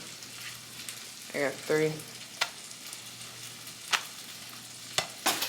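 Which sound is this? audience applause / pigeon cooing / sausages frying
sausages frying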